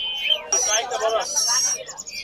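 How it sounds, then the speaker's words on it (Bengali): Caged birds at a busy Friday bird market in Mirpur 1 chirp and whistle in bright, overlapping tweets close by, with a voice heard faintly in between. "আজকে কিন্তু অনেক দামি পাখি অনেক বেশি আসছে"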